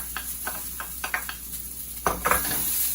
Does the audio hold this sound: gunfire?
no